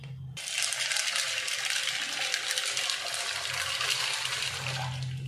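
Water pouring into a vessel over dried rajma beans being set to soak, a steady close splashing gush that starts abruptly and runs continuously.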